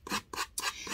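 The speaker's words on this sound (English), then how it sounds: "you always want to sand when you're sanding with paper away from your paper" Sandpaper rubbed with a Gator hand sanding tool in short rasping strokes, about four quick back-and-forth passes in one second, close and fairly quiet.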